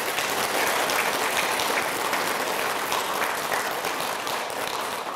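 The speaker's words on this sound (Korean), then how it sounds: "일단 박수 한번 쳐주세요" An audience at a Buddhist temple dharma talk gives loud, dense, continuous applause, a steady wash of clapping with no talk and no letup across the whole stretch.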